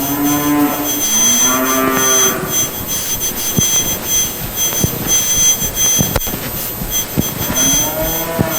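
Yearling beef heifers moo loudly at a cattle show in a hall, with long, drawn-out calls at the start and again near the end, over a busy, echoing indoor din.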